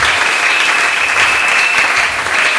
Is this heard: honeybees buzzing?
no